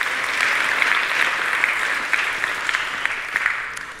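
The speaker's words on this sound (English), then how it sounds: "It's okay to clap." Church congregation applauding during a sermon, a steady wash of clapping hands that stays fairly even, with a few sharper claps standing out near the end.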